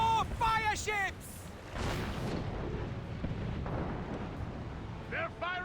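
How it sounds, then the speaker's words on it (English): Mortar fire from warships during a naval battle in the video game Assassin's Creed Rogue: deep rumbling booms and bursts over a steady roar of sea and combat, with shouted voices breaking in near the start and end. "They're firing mortars!"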